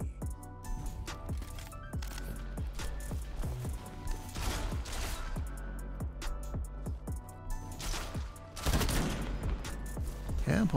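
Rapid bursts of pulse rifle fire in a first-person shooter game run steadily for about eleven seconds, dense repeated shots with a brief louder flurry near the end, no voices heard.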